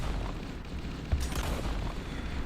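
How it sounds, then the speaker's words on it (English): Distant gunfire and muffled explosion booms in a tabletop RWBY roleplay sound effect, a low continuous rumble with one sharper thump, moderate and far-sounding. "There, you hear gunfire and chaos ensuing in the background."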